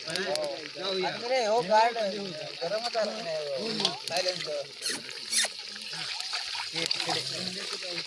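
Water splashes and trickles into chicken curry in a pan at an outdoor village cook-up, faintly beneath nearly continuous talking.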